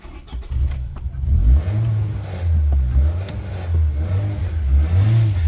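A car engine cranks, catches and starts, then revs up and down in several loud, close surges that rise and fall in pitch, with no talking.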